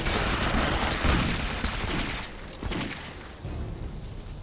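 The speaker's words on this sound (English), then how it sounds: "Let us go shoot the bad guys with our bullets until the bad guys die from the bullet wounds." Gunfire in the shooter game Clive Barker's Jericho: a dense burst of rapid shots with booming low thuds, loud and continuous, easing slightly toward the end.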